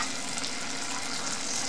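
Water boils in a pot for a Thai green curry with fish balls, a steady close bubbling hiss with no pauses or talking.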